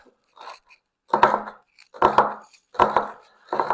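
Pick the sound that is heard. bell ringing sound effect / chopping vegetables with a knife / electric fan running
chopping vegetables with a knife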